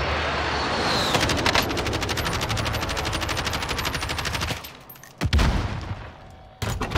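Automatic gunfire in Call of Duty: Warzone, a long, dense burst of rapid machine-gun shots filling the first four and a half seconds, then brief gaps and fresh loud bursts near the end.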